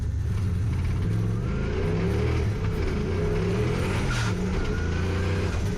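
A turbocharged 1UZ V8 Lexus LS400 engine roars continuously at high revs while drifting in third gear, loud and close, with a steady rumbling drone and no voices.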